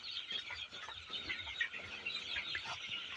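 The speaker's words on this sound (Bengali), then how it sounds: "মুরগি ধরি" A flock of 24-day-old colour bird broiler chickens on a farm clucks and squawks as birds are caught, a steady dense chatter of fowl calls throughout with no talking.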